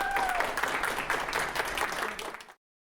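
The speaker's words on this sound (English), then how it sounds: "Please give a huge Lancaster University round of applause" Audience applause at a live recorded panel event at Lancaster University, a dense steady clapping from a crowd that fills the room and fades out near the end.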